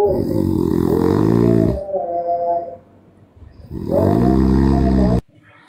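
A person fakes snoring with two long, loud, rasping snores, each drawn out for nearly two seconds with a quiet pause between, close and alone with no talk.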